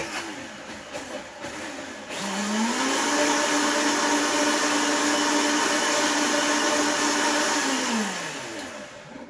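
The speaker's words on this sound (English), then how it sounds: "we're going to blend it together" A blender whirs up and runs loud and steady for several seconds while blending a smoothie, its motor pitch rising as it starts and falling as it stops, with no talking.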